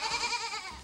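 A voice imitates a little goat with a single short, wavering bleat, fairly quiet and heard on its own.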